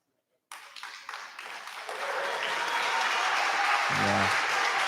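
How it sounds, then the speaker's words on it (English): Applause from fans, teammates and opponents at a powerchair hockey world championship playoff, Switzerland versus Australia, at halftime after a collision; the clapping starts abruptly, swells into a steady dense wash, and a low horn-like tone briefly sounds near the end. "Some applause from fans, teammates, and opponents as well."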